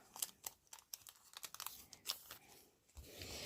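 Sticker package being cut open at the top, close crinkly plastic rustles and sharp snips in quick irregular bursts, then a softer crumpling hiss.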